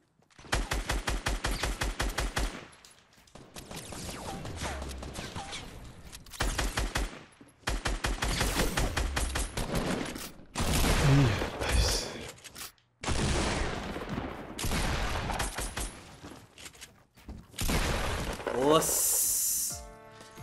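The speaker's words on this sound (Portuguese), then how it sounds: "Quando o cara fez esse barulhinho dessa 12 de cano duplo, eu falei, já era." Gunfire in the Fortnite video game, including a double-barrel 12-gauge shotgun, comes as loud, dense bursts of rapid shots separated by brief pauses across the stretch.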